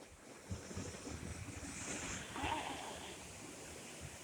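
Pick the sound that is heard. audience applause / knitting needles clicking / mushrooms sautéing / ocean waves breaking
ocean waves breaking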